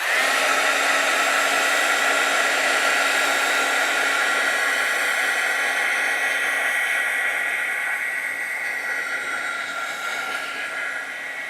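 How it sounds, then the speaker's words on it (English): A craft heat tool blows steadily over a watercolor card, a loud continuous broadband whoosh with a faint hum running alone for the whole stretch, easing slightly toward the end. "I'm gonna dry this quickly with my heat tool."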